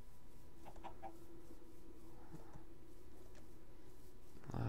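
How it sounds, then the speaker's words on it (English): Chickens cluck softly in a survival video game, a few short clucks rising over a constant low ambient hum, fairly faint and without talk. "A lot of freaking chickens on this damn map."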